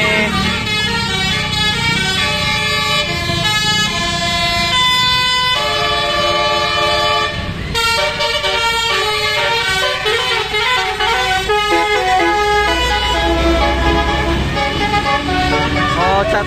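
A passing bus plays a loud, melodic basuri musical horn, with a rising and falling tune of tones heard close over road noise, with vehicle rumble underneath and people talking.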